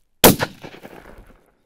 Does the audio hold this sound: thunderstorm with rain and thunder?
no